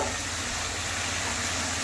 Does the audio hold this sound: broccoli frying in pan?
yes